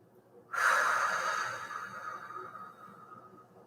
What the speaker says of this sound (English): Nice, full, audible exhale, flattening the stomach, getting all the air out.